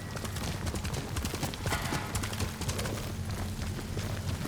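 Horse hooves galloping in the video game Ghost of Tsushima: a fast, steady clip-clop rhythm, loud and continuous throughout, over a low rumbling background.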